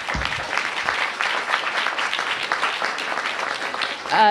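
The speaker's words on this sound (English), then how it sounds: "Give him a big round of applause." A crowd applauds at a bill-signing ceremony for the Homeward DC Act, a steady roomful of clapping that holds fairly loud for about four seconds before a brief louder swell at the end.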